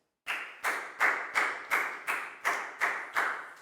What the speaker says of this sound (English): Big round of applause for Nadia, guys.